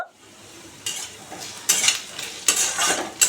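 Potatoes being fried in a pan without turmeric or salt and stirred with a utensil. Steady low sizzling runs throughout, with three louder scraping, clinking bursts of stirring toward the end and no talking.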